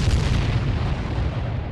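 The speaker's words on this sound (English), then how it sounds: "There was this tremendous explosion, almost like a geyser going off." A huge gunpowder mine explodes beneath the Confederate lines in July 1864, a continuous deep, rumbling roar that stays loud and dense for the whole stretch, with no voices.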